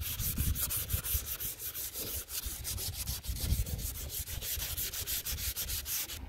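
Steady, rhythmic scraping of sandpaper rubbed back and forth on a foggy plastic Nissan 350Z headlight, close and continuous with no talking.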